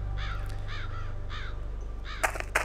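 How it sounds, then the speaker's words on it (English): Crows caw repeatedly in the pumpkin patch of the Sanitarium video game, three or four harsh calls over a low steady hum, followed by two sharp cracking hits near the end. "as soon as we get into the pumpkin patch, these birds start attacking us"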